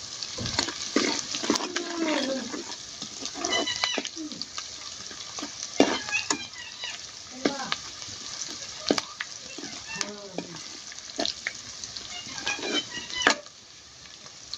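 Green chillies and garlic fry in a pan for potato kadhi with a crackling sizzle, broken by repeated clattering stirs and scrapes of a utensil against the pan.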